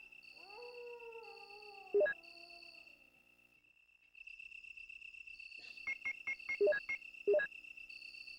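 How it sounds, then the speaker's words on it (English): Atmospheric dog noises in the original Resident Evil, a long mournful howl followed later by a rapid series of sharp barks, set against a constant shrill insect-like drone. "these atmospheric dog noises are pretty nice"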